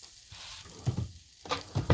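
Sausage sizzles on a hot Blackstone griddle outdoors, a steady close frying hiss with brief louder crackling spurts.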